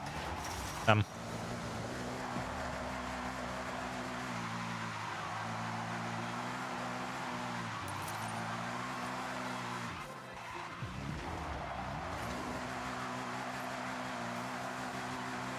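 Engine drone of a car drifting in Forza Horizon 6, steady and continuous with shifting revs and tyre noise, interrupted by a brief sharp bump early on, while a person talks over it.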